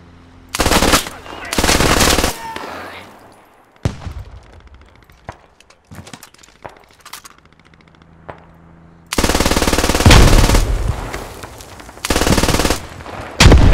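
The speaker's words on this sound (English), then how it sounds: "There's one infantry guy shooting at us." Repeated loud bursts of machine-gun fire in the Squad military shooter, including MG3 suppressive fire, sustained volleys broken by scattered single shots and quieter gaps. Voices are heard between bursts.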